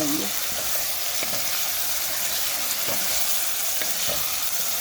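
Ingredients for a prawn curry sautéing in a pan give a constant, close hissing sizzle, broken by a few soft ticks of stirring, and no one speaks.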